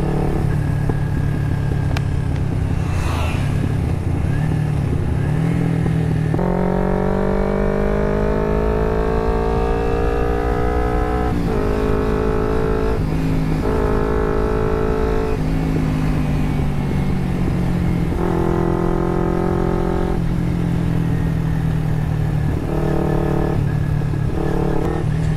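A carbureted Kawasaki Ninja 250 motorcycle is ridden on the road. Its engine revs rise and fall through the gears in repeated pulls, loud and close, with steady wind and road noise underneath.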